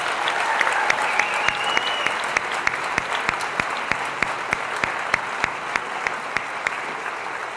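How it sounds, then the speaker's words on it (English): Audience applause at a high school class of 2019 awards night, a steady, dense wash of clapping from a large crowd with a few sharp, distinct claps standing out near the front. "So let's give them a big round of applause."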